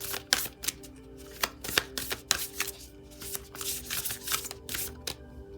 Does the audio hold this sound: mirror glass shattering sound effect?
no